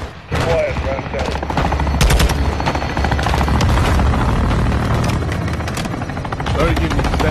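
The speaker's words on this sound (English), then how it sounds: "Weapons hot for gun run." A helicopter gun run in Call of Duty MW2 brings rapid bursts of heavy machine-gun fire over a steady rotor drone, loud and close, mixed with radio chatter and battlefield noise.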